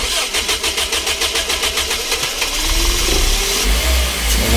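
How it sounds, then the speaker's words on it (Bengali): A 2000cc VVT-i car engine cranks with a rapid rhythmic starter chatter, then catches and settles into a steady, loud running hum close by. "দেখেন গাড়িটা আমরা স্টার্ট করলাম"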